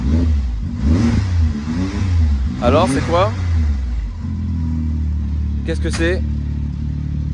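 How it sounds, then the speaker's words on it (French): A souped-up reel lawn mower engine revs up and down in a few loud, mid-pitched bursts, with people talking over it close by. "C'est une tondeuse à tête hélicoïdale. Survitaminée la tondeuse."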